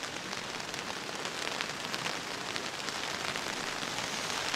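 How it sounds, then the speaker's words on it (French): Rain pours steadily during forest camping, a dense, even patter on surfaces nearby with no pauses, heard alone without talking. "comme vous pouvez l'entendre, c'était pas annoncé, mais il pleut"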